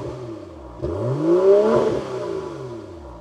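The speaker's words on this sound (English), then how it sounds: "That lovely deep tone of the B58." A BMW X3 M40i SUV with the B58 engine revs once, rising from a deep idle to a loud swelling roar. It then settles back into a lower rumble.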